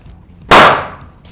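A single balloon pops with a loud, sharp burst that fades within half a second, leaving near silence around it.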